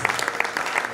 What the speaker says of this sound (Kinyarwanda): Reka twongere amashyi menshi